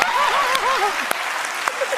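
A TV show studio audience breaks into loud, sustained clapping that fills the whole moment, with a wavering tonal sound sliding over it early on and a few sharp isolated claps poking out near the end.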